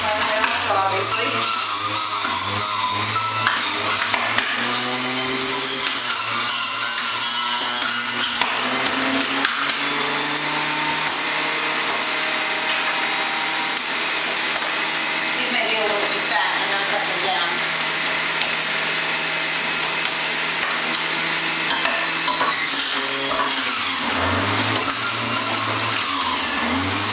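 Vegetable juicer running while vegetables are pushed through it, a loud continuous motor whine with grinding changes in pitch as pieces are fed in, under a voice talking throughout.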